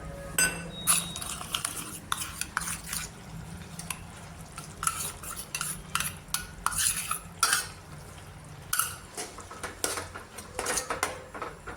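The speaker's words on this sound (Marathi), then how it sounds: "आणि नंतर आपण हे भाजीमध्ये टाकून घ्यायचं" A spoon stirs gram flour into spinach bhaji in a metal pot, with repeated clinks and scrapes against the sides in an irregular rhythm, close and moderately loud, with no voices.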